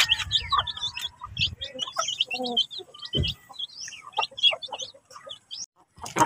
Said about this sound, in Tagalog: At ito po yung ating Rhode Island Red na mga lalaki